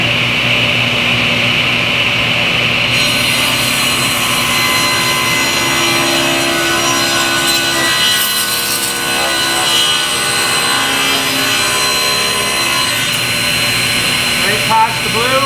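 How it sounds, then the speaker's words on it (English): Table saw spinning up and ripping through wood for a Viking chair, a loud steady whine and roar throughout with the pitch dipping as the blade bites, in a workshop with vents running. "Now to start the machine, we pull the paddle towards you. Let the blade get up to speed,"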